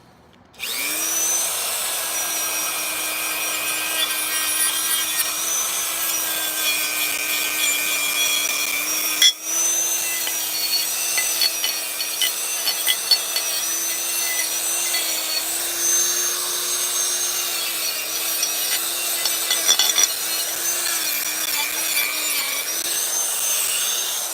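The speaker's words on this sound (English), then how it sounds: "Let's see here, Dremel." A Dremel rotary tool grinds steadily for about twenty seconds during a Minarelli vertical scooter engine rebuild and timing modification, holding a constant whine with one brief dip near the middle and slight shifts in pitch as the load changes.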